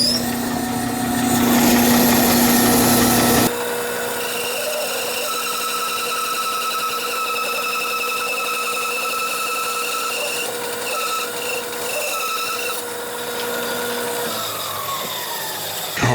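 Homemade DIY bandsaw running without dust collection: a loud burst of cutting noise for a few seconds, then a steady whining hum with whirring tones as the blade and wheels spin freely.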